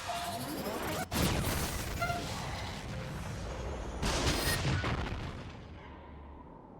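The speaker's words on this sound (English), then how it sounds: "Close range firing mode. Maximum output. 9S. Fire." A close-range energy weapon in the video game Nier: Automata fires at maximum output, a loud sustained roaring blast with sharp cracks near the start and again midway, tailing off toward the end.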